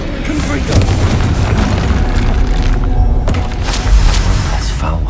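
A loud, booming Confringo blasting spell explodes in Hogwarts Legacy, a sustained rumbling blast with heavy low-end and a few crackling peaks, up close, with voices speaking over it.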